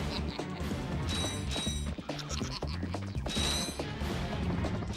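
Quick metallic clinks and ratcheting clatters of bolts being collected in the Ratchet and Clank video game, layered over busy mechanical game sounds and music that keep up a steady, dense racket.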